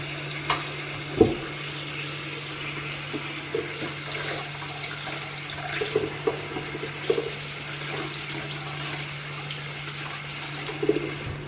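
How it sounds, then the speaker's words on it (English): Cold tap water runs steadily into a saucepan in a kitchen sink, a continuous close rushing splash with a few small knocks and clatters over it. "Fill the saucepan with cold water."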